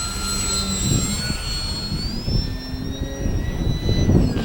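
The small engine of a fairly large HobbyKing Arcus F3A radio-controlled model airplane whines steadily overhead at a distance, its pitch gliding up and down as it passes and loops, with faint background noise.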